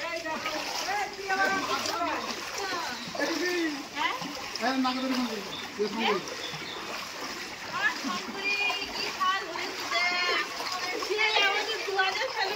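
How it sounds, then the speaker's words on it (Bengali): Floodwater from two to three days of heavy rain pours into a house, a steady loud rush and splashing throughout, with people talking over it. "জলটা স্রোতের মতো আসছে।"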